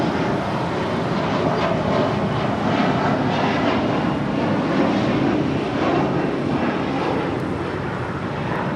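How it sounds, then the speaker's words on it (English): A United Express Embraer E175 jet departs an airport runway, a steady loud engine roar sustained throughout with no talking. "This is United Express 5599 departing to Austin on E175"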